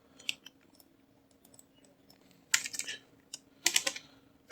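Text typed on a computer keyboard while designing a mahfil poster, quiet scattered key clicks building into two brisk bursts of fast typing, close and dry, with a faint steady hum behind.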